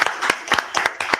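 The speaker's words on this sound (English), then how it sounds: "A clap for him" Audience at a pediatric cardiac care conference claps for an organizer, brisk uneven applause with sharp overlapping hand claps coming in quick bursts, fairly loud and close, no talking over it.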